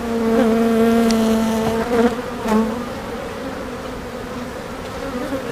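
Honeybees from an overwintered colony buzz loudly and close as frames are shaken over a nuc box, a dense droning hum that swells and then eases a little.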